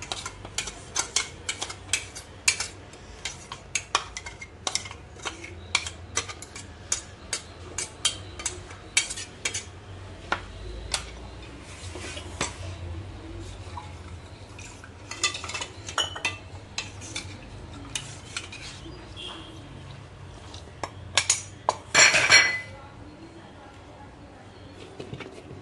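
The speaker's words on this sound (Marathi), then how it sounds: "आपण हे वाटण या पिठात कालवून घेणार आहोत." A utensil scrapes and taps against a bowl while ground moong dal paste is mixed into flour for dosa batter, giving irregular clinks and soft stirring scrapes with faint speech in the background.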